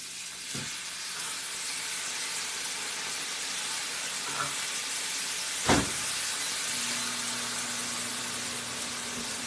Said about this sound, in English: Oh, it's steaming.